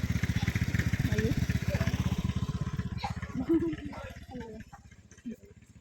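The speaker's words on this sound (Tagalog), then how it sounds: "He knows how to drive the scooter" A child rides a small motor scooter nearby, its engine buzzing in a steady pulsing idle-like drone for about three seconds, then fading into quieter sputters with scattered sounds of a rural village and farm animals around.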